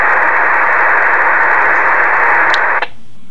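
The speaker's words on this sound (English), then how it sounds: "if you had an agency back in the days of analog that had old DVP or digital voice protection, their encryption method may have sounded like this." Encrypted analog police radio using old DVP digital voice protection: a loud, steady hiss of scrambled static fills the channel for about three seconds, with a short chirp near the end before it cuts off abruptly into silence.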